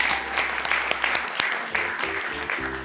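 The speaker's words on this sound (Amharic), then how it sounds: "አጨብጭቡ እስቲ።" A congregation at a church prophecy service claps together, a loud, dense burst of applause sustained throughout, with a faint voice or tone coming in beneath it toward the end.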